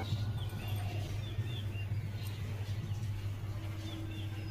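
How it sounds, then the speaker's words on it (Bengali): Birds chirp faintly at dawn at five in the morning, their thin, high calls scattered over a steady low hum, with no one talking. "কত সুন্দর পাখিরা ডাকছে"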